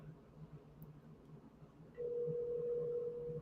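An unanswered telephone rings in a home at dinner time, a steady electronic tone starting partway through and holding at moderate level over a low background hum, with no talk.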